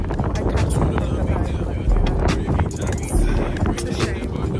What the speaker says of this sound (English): it's raining, so it's very windy